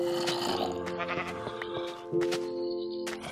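Sheep in Minecraft bleat several times in quick succession, a clear wavering game-animal call up close, over other game sounds with no talking.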